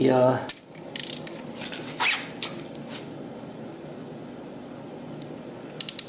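A ratchet tightens a bolt with a locking tab on a 2004 Harley-Davidson Dyna Custom, producing short bursts of close mechanical clicking. Quieter workshop noise follows, then a few crisp clicks at the end, with no speech.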